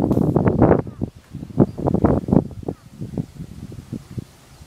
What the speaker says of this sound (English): Sorry about the wind, it's gonna be hellacious on your ears.